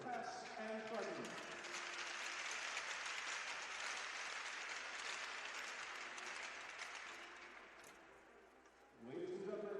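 A hockey arena crowd applauds military veterans before an amateur game, broad, sustained clapping that swells and then fades, with a public-address voice speaking just before and returning at the end.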